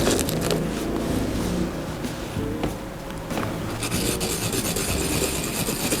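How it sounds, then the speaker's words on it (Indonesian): Garlic is rubbed against a grater over a bowl of grated cassava and finely chopped corn, giving a steady close scraping and rasping sound that continues throughout with no talking. "Kita parutkan bawang putih ke dalamnya."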